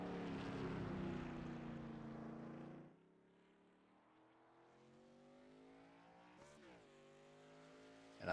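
A race car engine heard onboard on a flying lap at Tsukuba Circuit whines loudly, then goes quieter as revs rise again through the gears, ending with a sharp shift and a burst of power.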